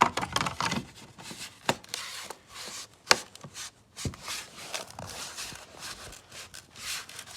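Plastic decorative cover on a Volkswagen mirror being pressed into place, a string of close, sharp plastic clicks and knocks with scraping handling noise in between.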